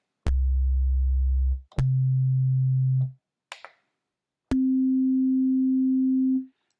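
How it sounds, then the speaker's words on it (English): Pure sine tones from a U-He Tyrell N6 software synthesizer oscillator: three sustained steady notes at different pitches, clean and loud, with a brief click between them. "we get a sine wave."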